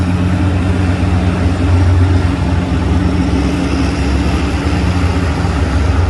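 Tractor engine roaring at a county fair tractor pull, a loud, steady, heavy low drone holding throughout with no break.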